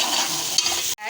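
Food sautéing in a pan during Indian turai dal cooking, a loud steady sizzle with a short scrape of stirring partway through and a brief cut-off near the end, close up with no voices.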